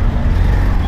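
Dense road traffic beside Infosys metro station, Bengaluru: a brief, loud, unbroken low drone of cars, buses and trucks rolling close by.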